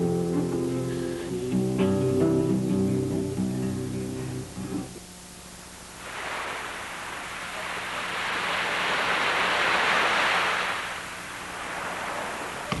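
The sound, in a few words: sea waves at Laranjeira beach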